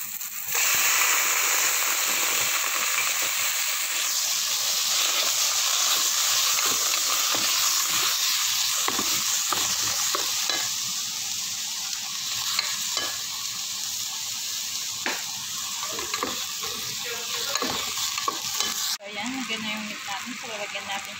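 Onion and tomato sautéing in a pan for ginisang upo, with a loud continuous hissing sizzle and scraping stirring close by, cutting off abruptly near the end.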